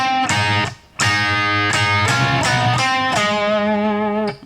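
A distorted electric guitar plays a solo lick, a run of sustained, singing notes with bends and vibrato in two linked phrases, loud and close with a brief gap between the opening notes.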